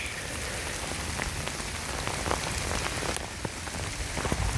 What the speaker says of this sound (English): It's raining like a bitch.